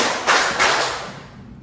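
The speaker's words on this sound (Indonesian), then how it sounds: "Tepuk tangan 3 kali." A class claps hands together in unison in a school room, a few sharp group claps in quick succession that fade into a reverberant decay.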